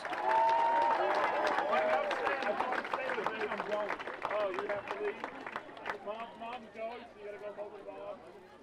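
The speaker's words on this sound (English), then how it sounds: "how about a nice round of applause for our senior football players and cheerleaders?" Crowd at a Dartmouth High School football game cheers and claps for senior football players and cheerleaders, loud at first and slowly thinning out, with a public-address voice talking over it.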